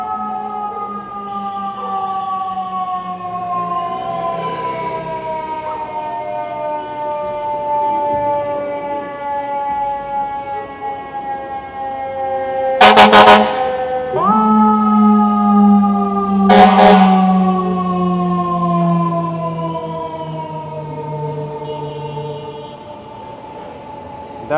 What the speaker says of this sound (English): fire engines coming this way